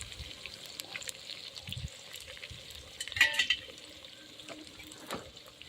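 Onion, mustard seeds and curry leaves fry gently in oil and are stirred in a pan, making a faint, soft sizzle with light scraping and clinks.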